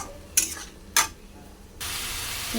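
Masala of ginger, garlic, tomato and green chilli is sautéed in a pan, two quick stirring scrapes sounding before a loud steady sizzle takes over and continues to the end, with nobody speaking.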